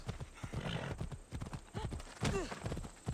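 Rhythmic hoof clip-clop of a horse galloping close by in Assassin's Creed Odyssey, with a short whinny partway through and some faint voice underneath.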